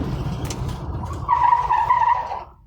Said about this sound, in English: We're gonna mash the brakes right now.